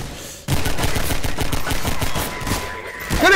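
A mounted .50 cal machine gun fires in Half-Life 2 in a sustained rapid burst of loud, evenly spaced shots that starts abruptly and continues to the end.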